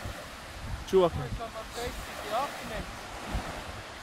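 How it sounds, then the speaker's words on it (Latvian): Beach with waves and wind, heard as a soft wash of surf and gusty wind buffeting the microphone, with a few brief spoken words. "šādi lūk izskatās pludmales tiem, kas nezin, kas tās tādas ir"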